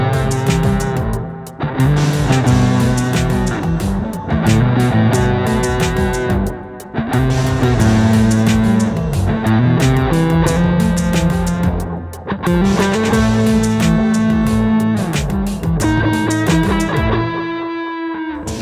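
Heavily distorted bass guitar through a distortion pedal plays a thick, driving riff with gritty overtones, sustained notes and brief pauses between phrases, loud and continuous.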